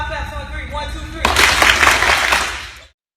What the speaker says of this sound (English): Let's give him 5 claps on 3.